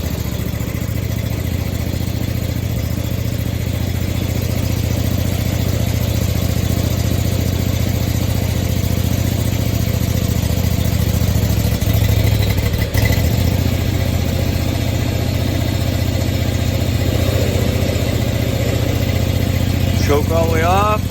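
A 2017 Scag Tiger Cat II zero-turn mower engine idles steadily after its first start of the season, a loud, constant low rumble that runs unbroken for about twenty seconds, with some faint talk and a brief higher whine near the end.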